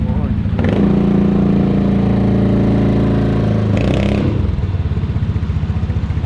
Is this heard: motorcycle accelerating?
yes